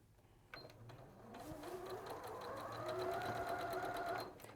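A sewing machine stitching under control of a stop-start button rather than a foot pedal, running as a steady whirring hum with rising motor pitch, fairly close, with faint background talk at the very start.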